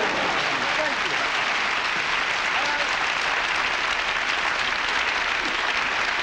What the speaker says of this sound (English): Please applaud. Please applaud.